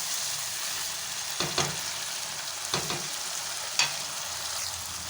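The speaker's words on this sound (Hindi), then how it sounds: "इसी तरह हमको माशाल्लाह से भूनते जाना है" Masala sizzles and fries steadily in hot oil in a pan while being roasted, a constant close hiss broken now and then by the scrape of a spoon stirring it.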